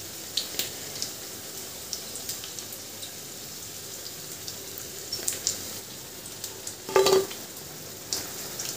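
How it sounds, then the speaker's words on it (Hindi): Veg roll tikki frying in a small amount of oil give a faint, steady sizzle with scattered soft pops and crackles, and one louder burst of spattering near the end. "इसी तरह से बाकी के भी तलकर तैयार कर ले रही हूँ।"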